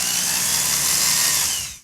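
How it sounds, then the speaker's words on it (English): A power drill bores a pin hole through a new front sight for a Smith & Wesson 686+ revolver, a steady, loud, high whine held close up for nearly two seconds before cutting off. "you can then drill the new sight for the pin"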